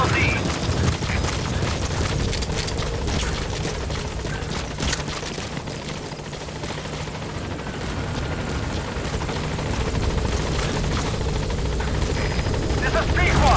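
The Pequod helicopter in Metal Gear Solid 5 approaches the landing zone with a loud, sustained rotor thump and engine roar filling the whole stretch, while a radio voice speaks over it.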